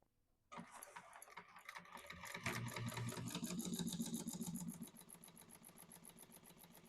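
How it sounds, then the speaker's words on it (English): Sewing machine stitching along a fabric fold in a quilting class, starting abruptly and running at a fast, steady mechanical whir with rhythmic needle clatter close by. "So I'm only sewing the fold."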